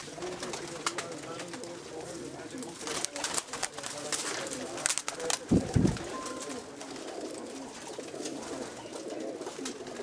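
Home-bred Salara pigeons coo together in a dense, steady murmur close at hand, with occasional louder flutters and voices talking over them.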